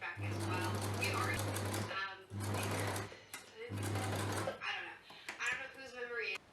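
A sewing machine stitches fabric for a frog-shaped backpack in three steady motor-driven bursts with short pauses between them, running loud and close, with speech coming in toward the end.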